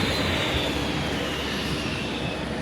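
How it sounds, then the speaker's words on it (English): Airliner engines idle and hum steadily on a cold winter airport tarmac, a broad continuous roar with a faint high whine, close and unbroken throughout. "It's nice to get out on the tarmac though to see the aircraft."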